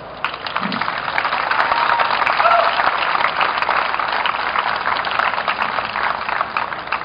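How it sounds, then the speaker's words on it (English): Applause at a ceremony for the US Open Junior Championships in tennis fills the whole stretch, a steady, full wash of many hands clapping at even strength without a break. "How about a big round of applause?"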